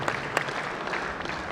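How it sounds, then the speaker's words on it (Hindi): Steady audience applause welcoming a guest at a Gurjar Sansad conference, a continuous wash of many hands clapping at moderate volume, with a couple of sharper claps standing out near the start. "जोरदार ताली से स्वागत।"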